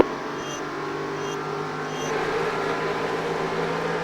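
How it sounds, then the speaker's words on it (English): NASCAR Nextel Cup race cars rolling at the green flag start of the 2007 Pepsi 400, a dense steady engine roar from the pack that builds slightly, heard through a broadcast feed with no talk. "Green flag, green flag. Everybody's rolling, June."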